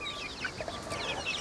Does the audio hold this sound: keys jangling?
no